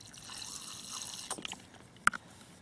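Water poured into hot chicken noodle soup outdoors on a desert hike, heard as a soft trickle and a few faint drips and splashes, ending in one sharper drip, quiet and close.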